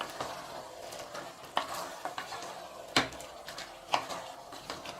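A spoon scrapes and clinks in a pot while chicken is stirred together with yogurt and onion for biryani, giving soft repeated scraping strokes and several sharper metallic knocks at an uneven pace, close by.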